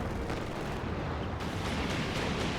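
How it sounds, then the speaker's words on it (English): Katyusha rocket artillery barrage landing in the Company of Heroes 2 strategy game, a dense, continuous rumble of overlapping blasts and crackling impacts with no pauses. "getting away from where all the Katyushas are landing"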